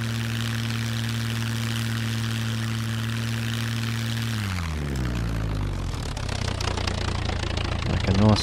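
Aircraft engine in the Scum video game droning steadily with a strong low hum, then dropping in pitch as the plane comes down to land, followed by rising rumble and rattling of the touchdown.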